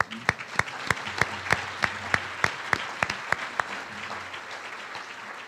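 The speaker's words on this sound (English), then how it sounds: "Please join me in a round of applause for all those who helped out putting this big event together today." An audience at an awards ceremony applauds event volunteers, with a steady wash of many hands and a few sharp, regularly spaced claps standing out near the front. Faint talk sits beneath.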